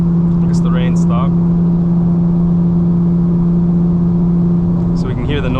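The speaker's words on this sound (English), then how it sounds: "So we can hear the noise again of the beautiful S58 engine with a titanium muffler" A BMW S58 engine with a titanium muffler on a 2025 BMW M4 CS drones steadily inside the car, a loud constant hum with brief faint higher revving notes at the start and end.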